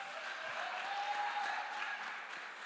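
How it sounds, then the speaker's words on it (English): An audience at a political public meeting in Trinidad and Tobago gives a steady round of applause, a soft, even wash of clapping held from start to finish. "we must give her another round of applause"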